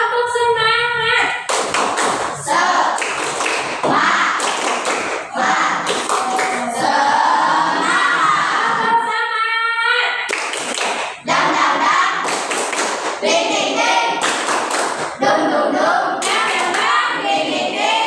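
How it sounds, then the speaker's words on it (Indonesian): A class of schoolchildren performs a rhythmic spirit clap, loud bursts of hand clapping with thumps and tapping in patterned groups, repeating through the span alongside chanting voices. "Ya, kita tepuk. Tepuk semangat."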